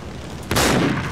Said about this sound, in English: Whoops, accidentally fired.